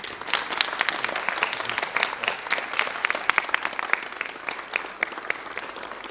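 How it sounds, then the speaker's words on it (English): Audience applause for musicians and educators after a performance: a full, sustained round of clapping from a room of people, steady and moderately loud throughout, with no talking. "So please give them a big applause."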